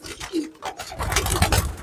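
Male pigeons coo in low, rolling murmurs, a few calls overlapping into a denser close chorus toward the end.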